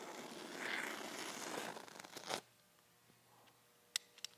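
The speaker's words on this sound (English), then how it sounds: "cut the wrap off." A sharp utility knife slices the plastic wrap off a rolled bundle of artificial turf, giving a steady close crinkling, tearing rasp for about two seconds that stops abruptly, followed by near quiet with a couple of faint ticks.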